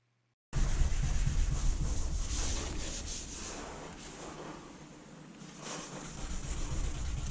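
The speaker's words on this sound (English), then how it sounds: "I'm literally just going to get some water and a Scotch-Brite pad and then just scrub it off" Steady abrasive rubbing close up as a wet Scotch-Brite pad scrubs a scuff on a fiberglass bathtub, a continuous gritty scrubbing that keeps going without pause and eases slightly before picking up again.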